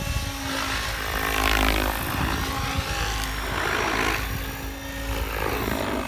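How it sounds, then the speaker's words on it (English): A Mikado VBar RC helicopter's rotor and electric motor spin up, giving a steady, close, tonal whine with rotor whoosh that swells and eases over several seconds. No voices. "when I give collective, you hear a very brief RPM increase"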